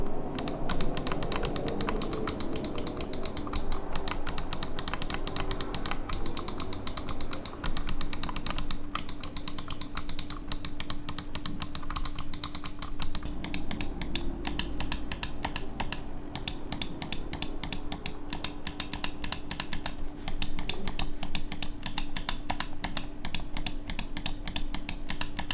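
Rapid, steady clicking of Razer Viper V2 Pro gaming mouse buttons, dense crisp clicks close up with no talking, continuing evenly throughout.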